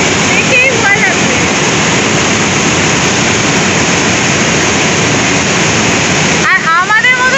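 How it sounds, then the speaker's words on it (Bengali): Water of the Subarnarekha River rushing with great force, a loud, steady roar filling the whole stretch like a waterfall, with a brief break near the end where faint voices and whistling-like tones show through. "এইখান থেকে জলটা পড়ছে প্রচন্ড ফোর্সে আমরা এইখান থেকে দেখতে পারবো কতটা জোরে জলটা পড়ছে"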